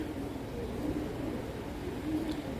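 A Beji pigeon of an old breed coos softly, a low steady murmur held close over about three seconds.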